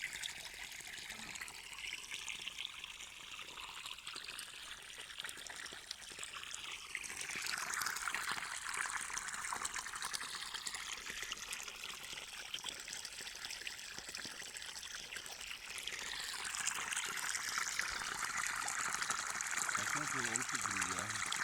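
Pressurized water from a garden hose in a village hobby garden in Ulukent, Tavas, Denizli, a steady rushing hiss that keeps going without letup, close up, with a person talking over it.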